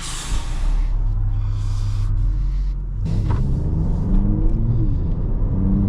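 A 2024 facelift Mercedes A35 AMG drives along in Sport Plus mode. Its engine gives a continuous close-up rumble that swells and grows richer about halfway through.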